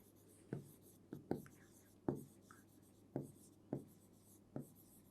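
Chalk or marker strokes on a board during a Class 6 maths mensuration lesson, several short scratchy strokes at an irregular pace, close and fairly quiet, with no talking.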